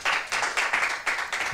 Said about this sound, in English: A round of applause for LGP.